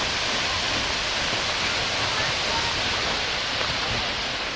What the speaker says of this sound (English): this waterfall you can walk behind